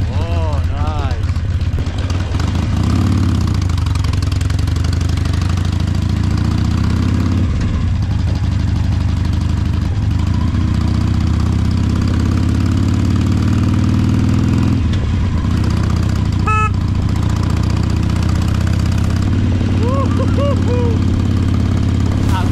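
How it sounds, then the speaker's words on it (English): A Harley-Davidson Iron 883 motorcycle idles nearby at high altitude in the Himalaya, its low, steady rumble continuous throughout while voices occasionally talk over it. "I'm with the beast, the Harley beast. I'll be riding this a little bit to feel the torque."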